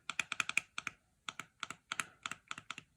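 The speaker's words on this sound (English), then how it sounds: "I think the button sound is okay." Google Nest Hello video doorbell button pressed repeatedly, giving small sharp plastic clicks in quick irregular bursts with short gaps, quiet and close, no voices.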